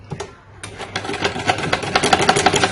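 A domestic sewing machine stitching fabric, starting with a few taps and then running in a rapid, steady mechanical chatter, close and fairly loud.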